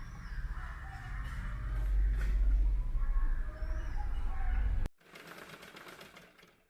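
Sewing machine stitching pleated fabric, a steady mechanical whirr running for about five seconds before cutting off, followed by a fainter rattling hum.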